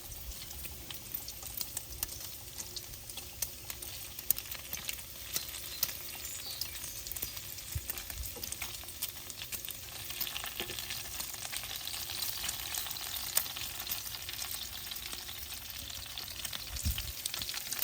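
Bacon frying on the griddle of a Ninja Woodfire XL Pro grill, a steady close sizzle and crackle with scattered pops running throughout without a break.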